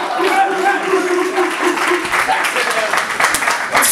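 A crowd at a music networking event applauds a performer, loud and sustained clapping with cheering and voices layered over it, fairly close and continuous.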